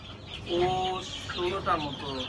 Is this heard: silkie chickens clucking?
yes